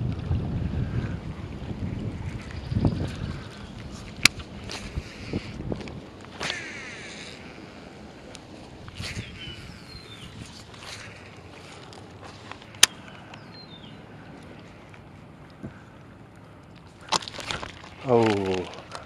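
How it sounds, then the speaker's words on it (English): Wind gusting across a lake shore during bank fishing for bass, a steady broadband rush with microphone buffeting and a few sharp knocks and splashy bursts near the end. "There's a lot more wind on this side."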